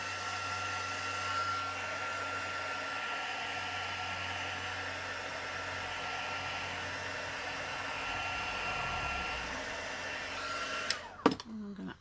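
A hair dryer blows steadily over wet paint, a constant close whooshing drone for about eleven seconds before it cuts off with a few clunks as it is switched off and set down.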